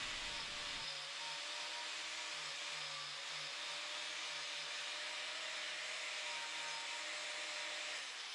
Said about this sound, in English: I also take this time to carve the transition from the neck to the body